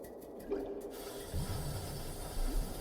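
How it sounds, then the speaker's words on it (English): Water runs from a tap in a restroom in Secret Files: Tunguska, a soft, steady hiss of flowing water with a few faint splashes and gurgles, quiet and close. "Water, flow."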